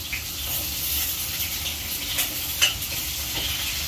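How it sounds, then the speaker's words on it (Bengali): Potatoes sizzle and fry in a hot pan in a home kitchen, with a steady crackling hiss and occasional scrapes as they are stirred, close and continuous with no talking. "আলু দিচ্ছে দেখো, আলু ভাজার জন্য।"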